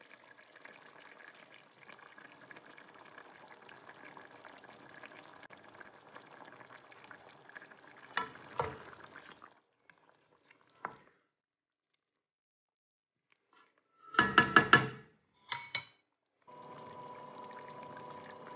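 Pakistani chicken karahi cooking down in a pan until the water is gone and the oil separates, a faint steady sizzle broken by silent gaps and a few louder bursts of scraping and stirring.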